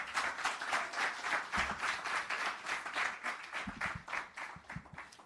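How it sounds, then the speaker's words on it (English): An audience at a trade board launch ceremony claps at a moderate distance, a rhythmic, pulsing round of applause that rises and falls without any talking over it. "Another round of applause, ladies and gentlemen"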